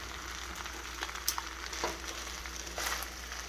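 Country fried rice with egg stirred in a pan just taken off the flame, a steady sizzle broken by several sharp scrapes and clinks of the utensil, close and alone without talk.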